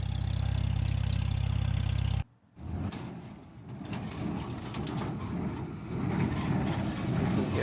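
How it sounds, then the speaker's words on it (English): A John Deere 328 square hay baler making small bales in a field near a freeway: a deep steady engine drone cuts off abruptly, then a rougher, farther mechanical rumble continues with bird chirps over it. "The 328 John Deere has been a good machine for us."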